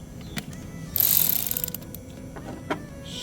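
Ratchet clicking while bolts are reinstalled under the dashboard of a Toyota Camry, a close burst of rapid ratcheting clicks followed by a few scattered metallic ticks, with no talk.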